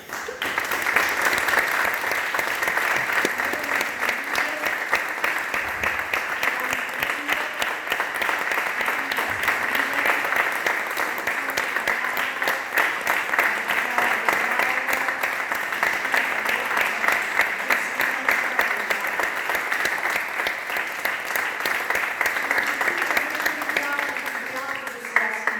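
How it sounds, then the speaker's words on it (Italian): An audience at an outdoor Good Friday sacred passion play applauds the actors in long, sustained, dense clapping that stays loud and even throughout, with some crowd voices mixed in. "Ma ora volevo che voi facciate un applauso agli attori."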